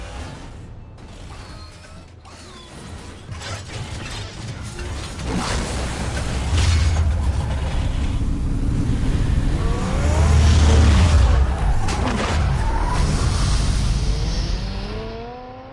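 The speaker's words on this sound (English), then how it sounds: "Sounds like a V12." A V12 engine of the Batmobile in the Telltale Batman game revs and swells over about fifteen seconds, a loud low rumble building louder toward the end with mechanical creaks and whirring on top.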